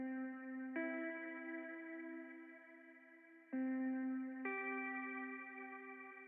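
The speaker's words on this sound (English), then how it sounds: "what that does, it just adds this really lush warm reverb." A lo-fi ambient guitar drenched in long, lush, warm reverb plays sustained chords that ring and wash out, with two fresh strums clearly restarting the tone, quiet and alone.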